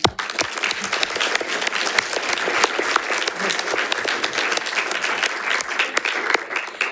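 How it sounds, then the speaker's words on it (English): Audience at a school district board meeting claps warmly in honor of a staff member, a steady round of applause from a modest crowd lasting several seconds, with a few voices faintly mixed in. "So if we can all clap for Wendy."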